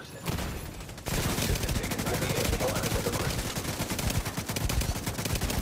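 Rapid automatic gunfire from The Division 2 rattles in dense, loud bursts almost without pause after a brief quieter opening.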